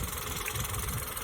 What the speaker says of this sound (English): this is the Turbo GDI motor